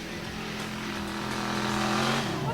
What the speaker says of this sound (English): This 4x4 is a carbon copy of the real Gravedigger, only this baby can hug the highway.